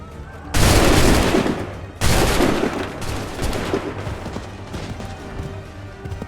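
Musket volleys crack out at the Battle of Bunker Hill in Assassin's Creed III, two loud massed bursts close together, each rolling into a long decaying rumble, followed by fainter scattered shots and battlefield noise.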